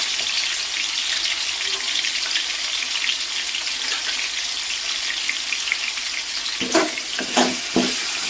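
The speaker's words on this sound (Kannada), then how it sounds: "ಮಟನಿಂದ ಅದು ಇದ್ರಲ್ಲಿ ಹಾಕಿ ಎಣ್ಣೆಲಿ ಬೆನ್ಸ್ಕೊತೀನಿ ಚೆನ್ನಾಗಿ" Mutton pieces frying in hot oil give a steady broadband sizzle throughout, with a few louder crackles and stirring clatters near the end; no voices.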